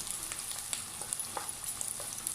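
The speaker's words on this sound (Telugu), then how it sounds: "బటర్ వేసుకోవాలి. ముందుగా ఆనియన్స్ వేసుకొని ఇవి చక్కగా వేయించుకోవాలి." Onions frying in butter for pav bhaji, a steady close crackling sizzle with faint stirring ticks throughout.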